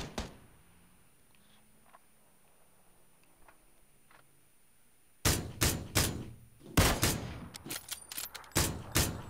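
Quiet low rumble, then a rapid burst of sharp gunshots in PUBG, in uneven clusters, loud and close, continuing to the end.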